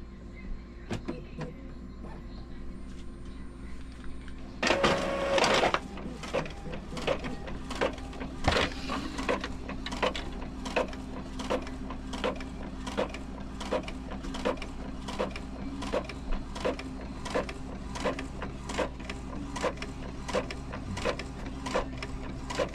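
An Epson L3210 inkjet printer's print head moves abnormally, making a rapid, regular series of sharp ticking and knocking clicks over a low mechanical hum, close and steady throughout.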